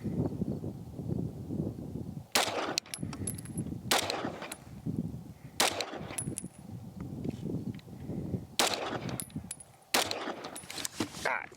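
Five pistol shots from a Bul Armory PRO 5-inch ring out, loud and sharp, spaced a second or two apart, each followed by a brief metallic tinkle. There is no talking between the shots.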